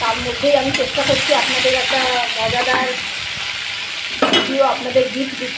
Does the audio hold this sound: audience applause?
no